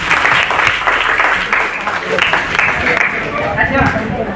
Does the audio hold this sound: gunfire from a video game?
no